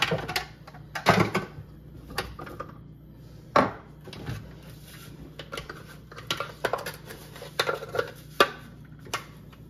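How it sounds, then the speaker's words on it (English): A knife chops dried cranberries on a cutting board for a cheesecake, with irregular sharp knocks close by, sometimes in quick clusters, and no voices. "So we're gonna chop these up."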